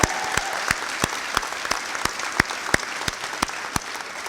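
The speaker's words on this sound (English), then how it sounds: "Give them a big round of applause." Audience applause at a high school senior awards ceremony, a sustained, fairly loud wash of clapping with sharp, regular claps standing out near the front, and no talk.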